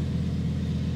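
A Lamborghini Huracan Tecnica V10 in Corsa mode runs with a loud, steady, deep engine rumble right after start-up, heard up close for about a second.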